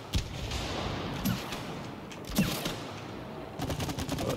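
Rapid bursts of gunfire in the co-op video game It Takes Two, several volleys of cracking shots spread across the moment, fairly loud with no talking over them.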